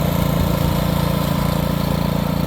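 A Hyundai cordless grass trimmer runs with a loud, close, continuous motor drone and a steady buzzing pulse, with no pauses.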